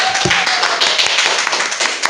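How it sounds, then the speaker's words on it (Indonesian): Audience hand clapping at a podcast as a guest is introduced, a brisk burst of overlapping claps filling the whole clip, fairly close and loud. "Tepuk tangan dong."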